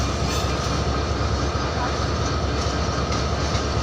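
An express train arriving at Kamalapur Railway Station, Dhaka, rumbles steadily and loudly, a dense continuous roar of rolling cars with no pauses.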